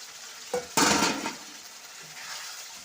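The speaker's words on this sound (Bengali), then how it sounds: "কারণ ডিমটা দিয়েও তো কষাবো" Eggs being sautéed in a spice masala for egg curry: a sharp burst of sizzling as they hit the hot pan, with a light stir, fading to a softer, steady frying hiss.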